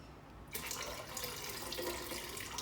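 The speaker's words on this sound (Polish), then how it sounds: "doleję tą wodę jego do akwarium" Water pours steadily into a betta fish aquarium, a constant splashing gush that starts abruptly after a brief quiet moment and continues without pause.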